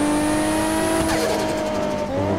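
A car accelerates along a toll road in a modded GTA 5 driving game, the engine tone climbing steadily and loud with a brief tire-squeal-like burst near the end, no voices over it.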